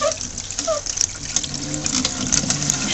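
A thick towel fed through the wringer of a Lehman's hand washer, giving a soft continuous squeaky rolling and squelching for a few seconds, fairly close and with no talk.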